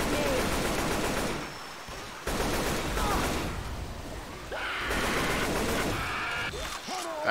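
Gunfire from Left 4 Dead 2, with bursts of shots crackling through dense game noise over most of the stretch while a voice talks.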